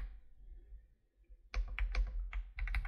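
Computer keyboard typed on right beside a microphone while coding, with bursts of close, loud key clicks in quick irregular clusters after a quiet start.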